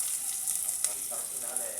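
Garlic frying in a pan, a continuous bright close sizzle with faint crackles, steady and alone.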